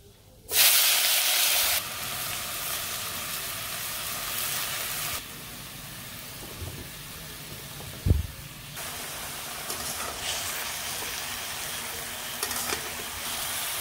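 Vegetables tipped into a hot pan of fish curry in a village kitchen: a loud burst of hissing sizzle at first, then a steadier frying hiss with a clunk of stirring partway through.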